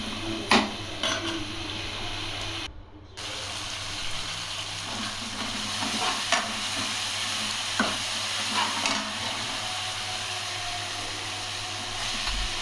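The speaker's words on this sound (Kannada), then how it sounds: "ಕಟ್ ಮಾಡ್ಕೊಂಡಿದ್ದೆ ಟೊಮೊಟೊನ ಹಾಕ್ಕೊಂಡು ಚೆನ್ನಾಗಿ ಫ್ರೈ ಮಾಡ್ತೀನಿ" Chopped tomatoes fry steadily in a pan for a vegetable kurma, giving a continuous close sizzle with faint scrapes and a brief pause early on.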